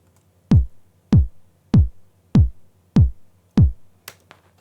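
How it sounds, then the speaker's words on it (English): Electronic kick drum sample from Logic's EXS24 electronic kit, C110, struck six times at a steady, even pace, each a deep punchy thump with a quick downward pitch drop, followed by two faint clicks, close and alone. "I went for an EXS24 kick under single drums kicks electronic kits, C110"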